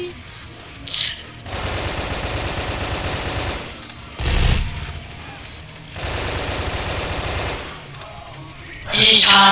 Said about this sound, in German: Ich hasse Sturmgewehr!